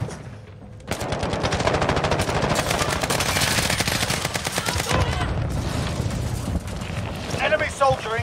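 Rapid bursts of automatic gunfire rattle loudly and continuously, with a voice briefly heard among the shots.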